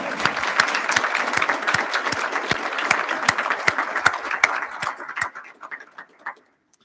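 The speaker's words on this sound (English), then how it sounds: "let's give her a round of applause." Audience applause at a residency graduation ceremony honoring Dr. Kathleen Maginot, steady crisp clapping that thins out and dies away to silence near the end.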